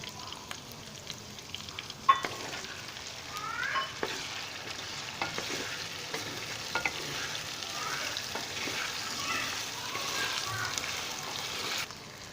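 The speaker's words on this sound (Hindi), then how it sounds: "अभी साथ ही मैं इसमें अदरक लहसुन की पेस्ट भी शामिल करता हूँ, इसको भी साथ में भून लूँगा।" Steady sizzling of ginger garlic paste frying in hot ghee, with occasional spoon scrapes and stirring clinks throughout.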